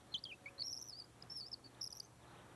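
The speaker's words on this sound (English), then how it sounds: "let's give those birds a call" Birds call in high, quick chirping phrases repeated several times over a few seconds, faint and airy against quiet background.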